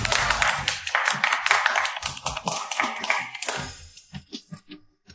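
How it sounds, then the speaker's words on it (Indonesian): A group of people claps together to welcome a newly appointed team leader in an office, a dense burst of applause that thins out into a few scattered, slower claps toward the end. "Semuanya beri tepuk tangan sambutan"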